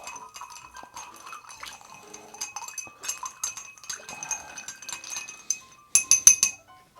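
Cocktail ice stirred in a glass for a bacon maple old fashioned, with a steady stream of light clinks and rattles that grow louder and sharper near the end.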